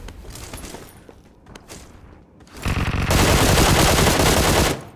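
Gunfire in the mobile battle-royale game PUBG Mobile, played on an iPad Pro on the Sanhok map: scattered shots at first, then a loud, dense burst of rapid automatic fire that continues steadily for about two seconds.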